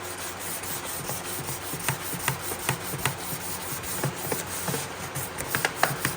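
Steady scratchy rubbing strokes of hand sandpaper on a rusty old trunk, close and continuous, with no voices.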